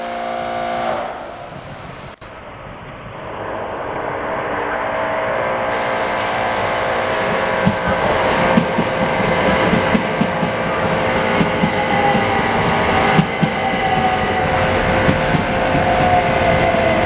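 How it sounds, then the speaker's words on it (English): A Southern class 377 electric train pulling into Bletchley station, its rumble and wheel noise building from quiet to a loud, steady roar close by, with rhythmic rail clatter and no talking. "Now arriving in is the Southern service."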